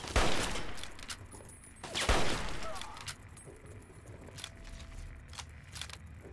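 Gunfire in Fallout 3 comes as a few sharp, loud shots near the start and around the two-second mark, trailing off into quieter game ambience with faint background sounds.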